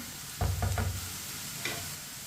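Garlic and onion browning in a pan over medium heat, a few stirring scrapes with a soft sizzle beneath, then quiet frying with one more brief stir near the end.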